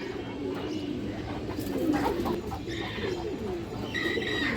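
Pigeons coo steadily in a loft full of birds, overlapping throaty calls over a constant busy background with occasional higher chirps and faint voices.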